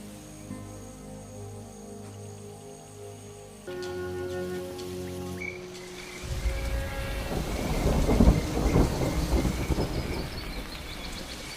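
Steady tones give way to a heavy downpour and deep rolling thunder over the Serengeti, the rain hissing loudly with no one speaking.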